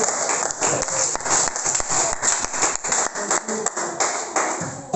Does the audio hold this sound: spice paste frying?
no